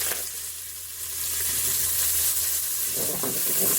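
Butter, chopped onion and smoked lardons frying in a Cookeo multicooker: a steady close sizzle with crackling hiss that grows louder over a few seconds, plus faint stirring sounds.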